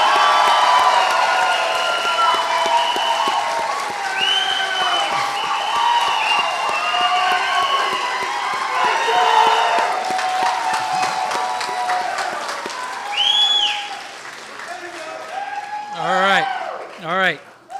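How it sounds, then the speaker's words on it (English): Applause and cheering from a crowd at a graduation ceremony for humanities, business and social sciences graduates, steady and loud for most of the stretch with whoops, then thinning out as voices rise near the end. "one final round of applause for our graduates"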